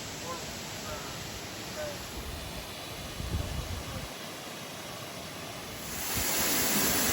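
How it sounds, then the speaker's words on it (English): Water being aerated to add oxygen for fish, near Roscoe, New York, gives a steady broadband rush like running or splashing water that holds throughout and swells louder near the end. "this is the way they aerate the water to introduce oxygen into the water for the fish"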